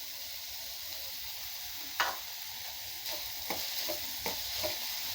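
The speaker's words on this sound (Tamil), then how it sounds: "அதனால இப்படி போட்டுட்டு நல்லா இப்படி வதக்கி விடணுங்க." Poha upma with turmeric and curry leaves sautés quietly in a pan, soft sizzling underneath a handful of brief spoon scrapes and stirring knocks.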